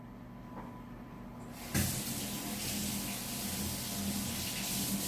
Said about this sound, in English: So I am going to have to wash my hands real quick.